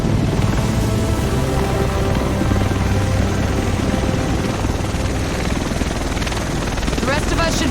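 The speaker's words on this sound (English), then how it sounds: "The rest of us should be in this chopper." A helicopter arrives in the video game The Division over Manhattan, its rotor drone loud and continuous throughout, with game dialogue spoken over it.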